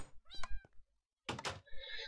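Cat meows in Minecraft: two short bursts of meowing, the first a tonal mew with harmonic streaks and a second fuller, brighter meow after a brief silence, close and fairly loud with no talk over them.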